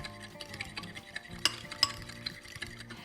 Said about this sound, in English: And then I'll just mix this together until everything has completely combined.